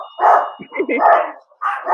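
A small dog barks several times in quick bursts with short gaps, close and loud, during an indoor podcast recording.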